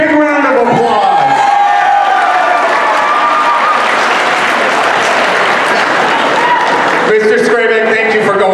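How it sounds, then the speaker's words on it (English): A high school student recognition assembly breaks into loud applause with cheering and whoops from students. The crowd noise swells and holds for several seconds, and a voice talks over it at the start and end. "Big round of applause."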